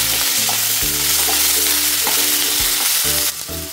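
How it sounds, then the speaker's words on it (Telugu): Tomatoes and capsicum sizzle and fry in a hot pan while being stirred, a steady loud crackle broken by scraping stirs, with a low background hum and no talking. "టమాటాలు వేసి కలుపుకుందాం"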